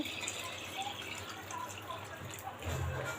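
Water is poured into a pot holding three glasses of rice and moong dal for khichdi, making a soft continuous hissing splash with faint droplet sounds, fairly quiet and without voices.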